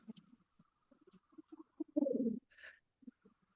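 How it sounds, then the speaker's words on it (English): A clay jaguar flute is blown, giving breathy, low hooting and rumbling tones in short irregular puffs with one louder growling burst and a brief high whistle, close and quiet. "So she gave me this Jaguar flute, which I just love. And if you breathe into it,"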